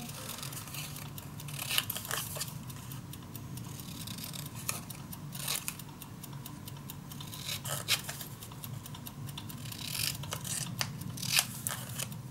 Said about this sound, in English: And the rest I can cut out myself.